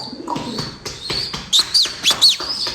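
Young pigeons call nearby, a run of short chirps and rising whistled notes in quick irregular bursts, clear against a quiet background.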